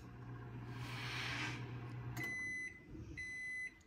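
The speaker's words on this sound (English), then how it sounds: "So it's going to go into the microwave for 1 minute" A microwave oven heating a chocolate chip cookie hums softly at close range, then the hum stops and a series of sharp electronic beeps signal the end of the cycle.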